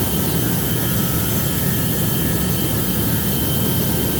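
A Boeing 737 takes off in the GeoFS flight simulator game, giving a steady, loud, broadband jet roar that holds evenly throughout with no talking.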